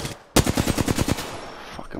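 Automatic gunfire in the battle royale shooter Apex Legends, a loud burst of roughly ten rapid evenly spaced shots after a brief quiet lead-in, trailing into fainter reverberation with another distant shot near the end.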